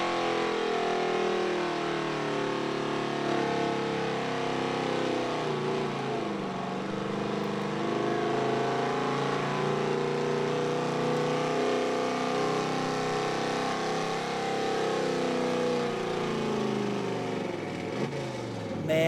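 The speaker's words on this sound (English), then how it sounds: "Beautiful-looking Ford truck with the step-side bed." A Ford step-side pickup truck on Nitto Mud Grappler tires pulls a sled at a truck and tractor pull, its engine droning loud and steady with slowly shifting pitch throughout, no voices over it.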